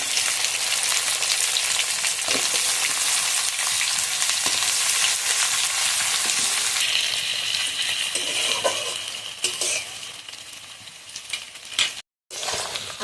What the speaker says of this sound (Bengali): আলু আর পেঁয়াজ একসাথে ভালোভাবে ভেজে নেব।